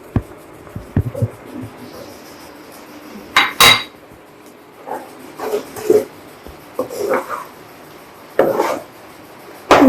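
Halved boiled eggs are placed into an egg masala curry in a pot, with scattered clinks and knocks of a spoon against the pot coming in short, separate bursts.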